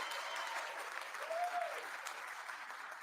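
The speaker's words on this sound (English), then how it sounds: "Can y'all give them a round of applause?" Moderately faint crowd applause at a district attorney gathering, steady clapping throughout with a brief whistle-like tone rising in the middle.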